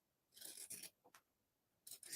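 Scissors snip through excess fabric while making a fabric yo-yo, a few quiet close cuts in two short bursts with a pause between.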